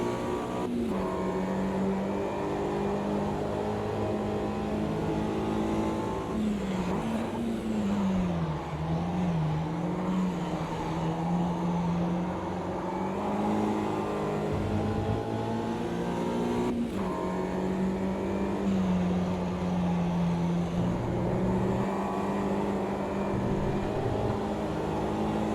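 A 1965 Mini Cooper S racing in Automobilista 2 on the Buenos Aires No6.S circuit: a steady, loud engine drone that rises and falls with gear changes and revs throughout, with no talk over it.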